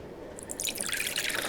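Water pours in a video game kitchen scene, a brief splashing trickle that starts faintly and swells into a bright, steady stream over about a second and a half.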